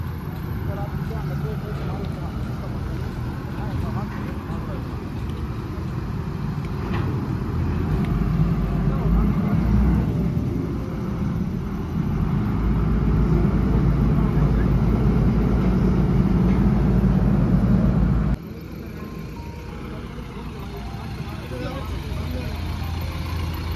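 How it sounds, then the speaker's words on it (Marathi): A car ferry boat arriving at Tapola, its engine a steady low drone that swells and fades, with people talking over it. "हे अशी बोट येते तिकडून"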